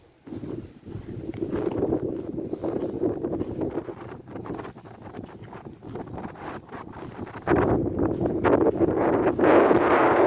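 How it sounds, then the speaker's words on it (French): Wind gusting across open water beside a carp-fishing spot, a steady rough rumble and buffeting against the microphone that swells louder toward the end, with no talking. "Alors un bon vent à faire de la voile."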